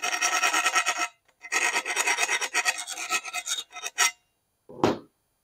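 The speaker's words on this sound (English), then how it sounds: "take a flat file, clean it. Basically, what you're doing is deburring it, make sure it's all smooth." Flat file rasping across a bicycle part to deburr it, in close, loud repeated strokes with short pauses between bursts, ending in a brief duller scrape.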